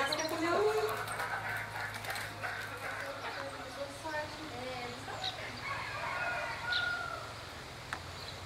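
Chickens on a small Brazilian farm, including a bantam, cluck and call in short bursts over a low steady hum, with human voices mixed in.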